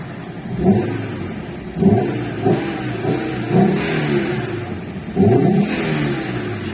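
Fiat Tipo 2.4 20V five-cylinder engine revving hard in repeated bursts of throttle, each rev rising and falling close by, with no talking over it.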